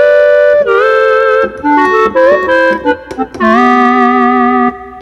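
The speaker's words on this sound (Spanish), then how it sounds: "aquí tengo otro sonido que es el clarinet, también del Core Triton" A clarinet patch from a Korg Triton played through a VST, with a melodic line of sustained reedy tones and short runs that carry over five seconds, clear and up front with no talking.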